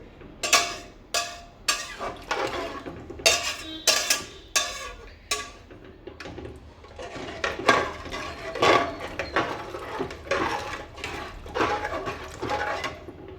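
Repeated metallic scraping and clinking of a spoon stirring spiced Khandeshi masala rice inside a metal pot, irregular strokes close by with no talking.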